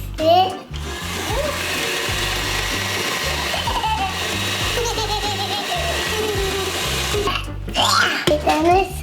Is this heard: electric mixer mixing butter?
yes